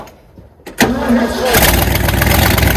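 A starter cranks briefly, then the heavy engine of an old 1967 Ford dump truck catches and roars into a loud, rough idle, close by.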